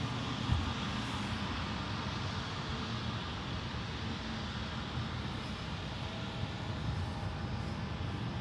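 A United Airlines Boeing 777-300ER heavy departs runway 28 left at San Francisco International Airport, a steady broad jet-engine roar heard from a distance, continuous and fairly faint, with no talking.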